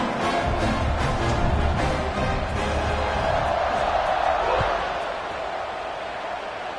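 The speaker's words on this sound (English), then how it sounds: "this crowd is buzzing after that last score" A stadium crowd at a football game keeps up a broad, steady buzz of cheering and chatter, loud and sustained, then eases slightly toward the end.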